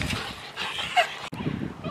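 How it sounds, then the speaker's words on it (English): Dogs bark and whimper in the background at home, faint and intermittent, while a person talks over them. "You can hear the dogs in the background"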